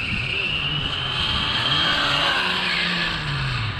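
A Hobao Hyper 9E electric RC buggy on 4S power with a new ESC runs at speed, its high motor whine and tire noise holding steady for a few seconds, pitch shifting slightly as it passes.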